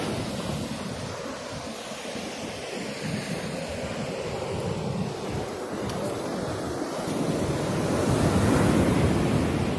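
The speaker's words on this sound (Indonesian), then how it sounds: "Ini pantai, saya jalan-jalan di pantai." Waves wash onto a beach while someone walks along the shore, a continuous roar of surf with wind buffeting the microphone, swelling louder toward the end.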